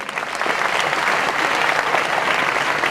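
An audience at a youth talk on nation building bursts into loud, sustained applause, a dense wash of many hands clapping steadily throughout with no pauses.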